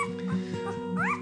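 A Gordon Setter puppy whimpers and yips up close, a short run of thin high whines rising and falling over a steady low background hum.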